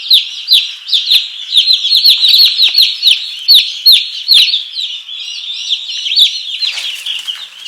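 About forty week-old chicks in a brooder cheeping constantly, a dense chorus of high, rapid peeps close by, loud and overlapping without pause.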